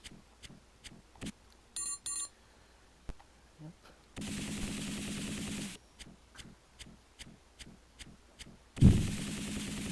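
Mech autocannon fire in the BattleTech tabletop-style video game: short bursts of rapid mechanical shots and beeping alarm tones over a busy game soundscape, ending in a loud heavy impact.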